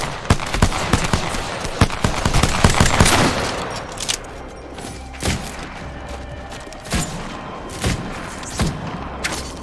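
Gunfire in the shooter game Apex Legends, a fast stream of loud, close shots at first, then scattered single cracks and short bursts at irregular spacing.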